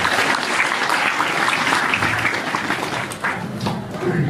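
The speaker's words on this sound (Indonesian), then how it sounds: "Beri tepuk tangan buat Presiden." A crowd at a lecture by KH Zulfa Mustofa at an Islamic boarding school in Dharmasraya applauds steadily and loudly throughout, a dense continuous wash of clapping with no clear pauses.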